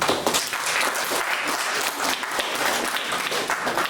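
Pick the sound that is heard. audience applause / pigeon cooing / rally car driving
audience applause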